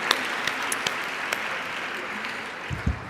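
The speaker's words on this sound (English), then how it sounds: "Another hand of applause, please, for Lydia." Audience applause for a performer at a mothers' awards ceremony, a steady wash of clapping throughout with a few sharper claps standing out.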